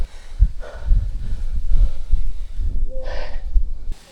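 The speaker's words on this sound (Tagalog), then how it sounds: "Hingal." Heavy, ragged panting from a person winded after a tiring walk on a hot farm, breaths loud and close, with gasps and a brief exhale near the end.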